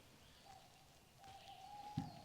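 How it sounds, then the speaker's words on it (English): An owl calling at night at a campsite, a few short tonal hoots standing out over quiet ambient background, moderately near, with no talk. "right on cue. There's Mr. Owl."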